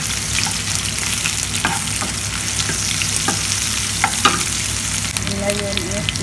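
Onions frying with garlic in a pan for a vegetable dish, a loud continuous close sizzle with occasional stirring scrapes and clicks, no talk.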